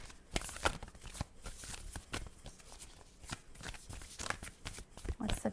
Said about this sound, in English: as I just cut the deck.